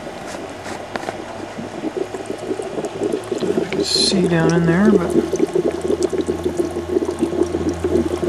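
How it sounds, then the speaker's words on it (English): HHO gas bubbles up from a 13-plate dry cell generator running at about 20 amps, making a steady, close fizzing and gurgling while someone talks over it. "there's the HHO bubbling up from the generator."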